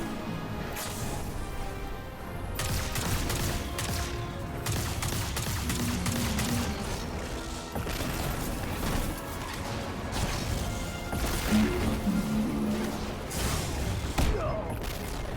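Rapid bursts of gunfire in Destiny 2 crackle across a dense, busy mix with whooshes and clattering impacts, steady and loud throughout.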